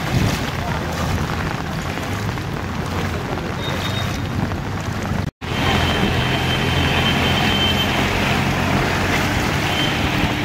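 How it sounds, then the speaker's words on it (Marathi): A tractor drives through a flooded street in Mumbai during heavy rain, giving a steady low engine rumble under broad wind and water noise that continues throughout, with one brief dropout midway. "ट्रॅक्टरच्या सवाऱ्या सुरू झाल्यात"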